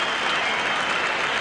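Rugby crowd at a Barbarians versus Argentina match applauds a try, dense sustained clapping from a large crowd with a faint cheer beneath, steady throughout and no commentary over it.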